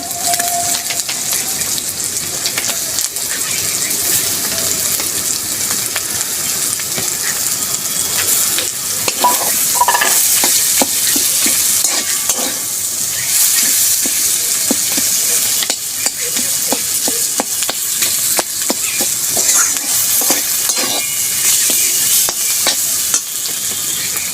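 Boiled elephant foot yam stir-frying with green and red chillies in hot oil, a loud continuous sizzle with rapid repeated scraping of a spatula against the pan, close up and without voices.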